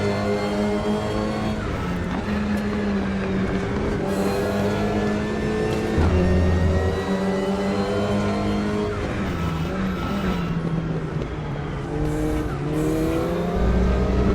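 Race cars brake hard and skid in the RaceRoom racing game, engines droning and revving continuously while tires squeal through the corners.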